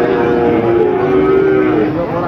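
A long, low moo from young feeder cattle at Pasar Pon livestock market in Jaken, Pati, loud and close, drawn out for a couple of seconds over steady background noise.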